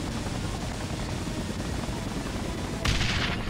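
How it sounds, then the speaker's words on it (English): Iron Man missiles firing in the Spider-Man 3 video game: a dense, continuous roar of explosive rushing noise, ending in a sudden louder hissing burst near the end. "Stop with the Iron Man missiles."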